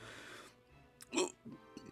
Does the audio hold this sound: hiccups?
yes